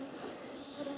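Mosquitoes buzz in a steady, thin, continuous whine close by, holding level for the whole second with no voices, out in the woods on a long hiking trek near a lake.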